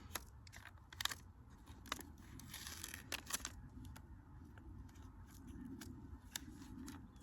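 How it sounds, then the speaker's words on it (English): A piece of tape is peeled off a package of mailed seeds, giving quiet crackly tearing and snapping bursts over a soft background hiss. "I'm going to go ahead and remove another piece of my tape"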